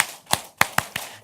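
An audience gives a rhythmic listening applause in a seminar hall, four sharp claps in a clap, clap, clap-clap pattern, crisp and fairly near, with no talking.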